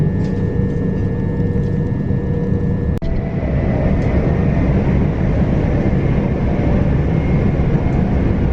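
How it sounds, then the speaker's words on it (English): Train rumbling past on a North London line, a loud continuous low roar with a sharp click or clunk early on, sustained and close without voices. "That's our train."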